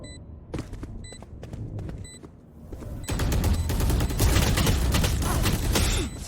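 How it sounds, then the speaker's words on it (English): Rapid exchanges of gunfire from a competitive esports shooter match in the Challengers NA group stage, starting as sparse separated shots and then building into a loud, continuous barrage of overlapping bursts. "A lot of gunfire being traded."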